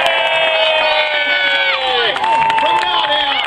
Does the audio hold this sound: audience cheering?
yes